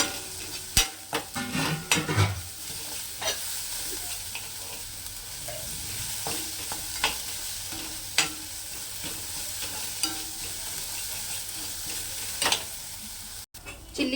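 Upsaru curry ingredients frying and being stirred in a pan, a steady low sizzle broken by repeated scraping and clinking strokes of a spoon, close and moderately quiet, without talk.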